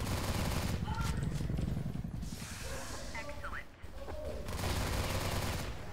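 A Steyr TMP fires in the CrossFire video game, rapid bursts of automatic gunfire that pause briefly midway before resuming, loud and close.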